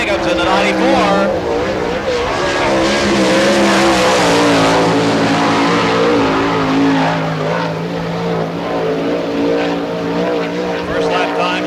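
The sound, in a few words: sprint car number 94 running a timed lap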